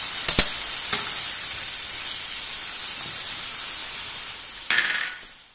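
Broccoli and garlic roast in butter in a pan, giving a steady close sizzle, with a few sharp clicks of stirring near the start and a louder scrape near the end.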